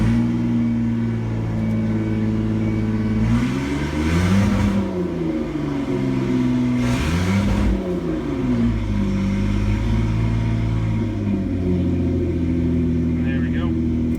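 Ford Escape engine with a failing catalytic converter, idling then revved hard twice, climbing past 3,000 RPM in two rising-and-falling surges, loud and close, with a steady hum between and faint talk over it.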